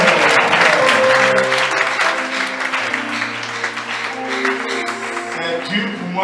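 A church congregation applauds in acclaim of Jesus at a Sunday service, loud sustained clapping that slowly thins out, with a voice and a held musical tone running underneath.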